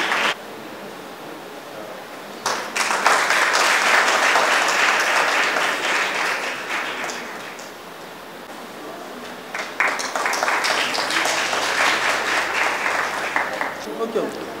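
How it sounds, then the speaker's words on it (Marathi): An audience gathered at a Buddhist community event bursts into applause to welcome a donor, with two swelling rounds of clapping and a brief lull between, and some voices heard beneath. "टाळ्या वाजून त्यांचं स्वागत."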